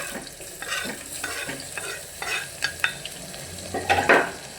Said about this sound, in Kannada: ಅದೆಲ್ಲ ಸ್ವಲ್ಪ ಫ್ರೈ ಆದಮೇಲೆ ಈರುಳ್ಳಿ ಹಾಕ್ತಾಯಿದ್ದೀನಿ